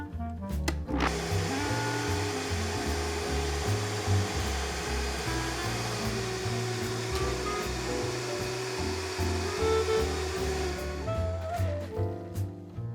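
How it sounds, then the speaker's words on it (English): A blender whirring on garlic cashew alfredo sauce with sage and pepper, a loud, steady motor roar that starts with a jolt, holds for several seconds and cuts off near the end. "this blender makes it hot already, so you don't even have to put it on the stove."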